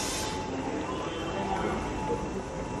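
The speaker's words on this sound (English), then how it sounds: "Here's metro." A Paris metro train rumbles steadily at a station in one continuous broadband roar with a faint high whine, and a voice speaks briefly underneath.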